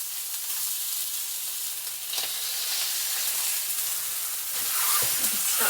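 Meat sizzling and frying steadily in a pan for a freezer-meal batch of Italian stuffed peppers, a continuous close hiss with light stirring and scraping near the end.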